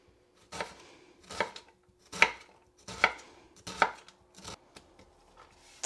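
An onion is diced with a knife on a cutting board, giving about seven sharp, close chops in a steady, unhurried rhythm with short pauses between them and no talking.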